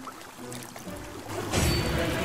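A triceratops drinks at the water's edge in the dinosaur game Saurian, a soft trickling and splashing that swells louder toward the end.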